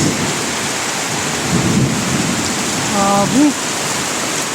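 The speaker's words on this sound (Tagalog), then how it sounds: "Malakas ang kulog guys." Heavy rain pours constantly while a low thunder rumble swells midway; a brief faint tone passes near the end, with no clear talking.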